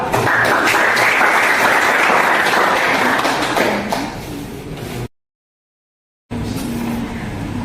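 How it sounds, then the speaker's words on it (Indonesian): Applause from a classroom audience of students and a teacher for a presenting group, a dense burst of clapping for about five seconds that fades, then a sudden gap of silence before faint room noise returns. "kita kasih aplaus untuk kelompok 2"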